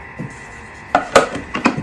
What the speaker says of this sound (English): So I'm just going to give it a little stir again